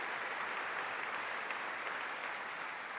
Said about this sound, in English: Warmly applauded to collect the trophies. They each wave to the standing crowd here on centre court.